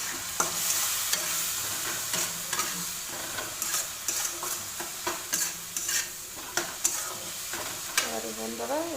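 A spoon stirs frying masala with Kashmiri red chili in a pan, scraping in a steady run of close, repeated strokes over a constant sizzle. A brief voice comes in near the end.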